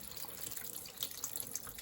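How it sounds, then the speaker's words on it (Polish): Coolant drains from a Honda Transalp 650 motorcycle in a steady, hissing trickle of liquid. It stays fairly faint and continuous, with no talk. "trzeba najpierw spuścić cały płyn chłodniczy, żeby tutaj mi nie przeszkadzało, więc ściągam pokrywę i spuszczam chłodziwo"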